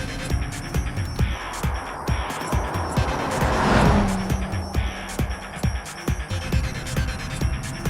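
An Ibishu Covet ute racing in the BeamNG driving game, its engine droning steadily while tires squeal and skid, with repeated sharp ticks and clatter through the run and no voices.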